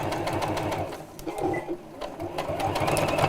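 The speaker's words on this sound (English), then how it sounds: "I'm going to lengthen the stitch a little bit to top stitch" A sewing machine runs a lengthened stitch to top stitch along the edge of a bag, giving a close, rapid mechanical chatter that slows briefly midway before picking back up.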